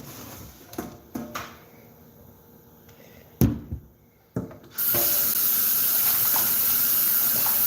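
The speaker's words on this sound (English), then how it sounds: "Rinse this out, put it back up on the sink." Water runs from a kitchen sink tap while a cup is rinsed, with a few clinks and knocks before a steady, close gushing stream starts and fills the rest.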